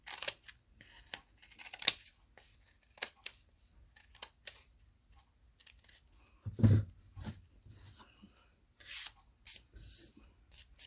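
Scissors trimming paper for a handmade junk journal booklet, a few quiet, scattered snips and rustles over near silence in a calm indoor space.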